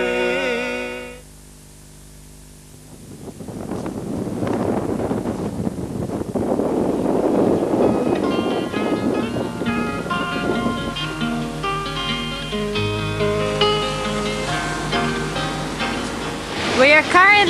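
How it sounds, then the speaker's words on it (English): Sea waves wash onto the shore at Kabuleti as a steady broadband surf roar across the whole clip, with voices and tonal, music-like sounds layered over it. "The noise of the waves behind you may give you a clue"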